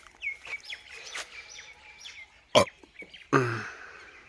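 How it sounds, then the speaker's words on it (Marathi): Birds chirp and call intermittently outdoors on farmland around ten in the morning, with short high tweets and a few louder sharp bursts nearby, including what may be a hen's cluck. "पक्ष्यांचा आवाज मस्तपैकी निसर्गरम्य वातावरण आहे"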